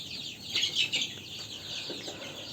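Healthy, vaccinated Egyptian Fayoumi chickens cluck softly at close range, giving a few quick clucks in a short burst over a quiet background.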